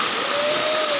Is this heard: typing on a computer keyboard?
no